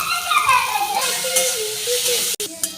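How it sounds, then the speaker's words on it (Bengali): Food frying in a pan while it is stirred, with a steady sizzle, some stirring scrapes and a sharp clack near the end. "ভালো করে নেড়ে চেড়ে নেড়ে নেব"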